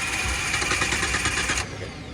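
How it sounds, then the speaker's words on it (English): A car engine cranks with a rapid, steady starter whir for about a second and a half, then settles into a lower, quieter running idle, close by with no talk. "Sam's going to crank the vehicle"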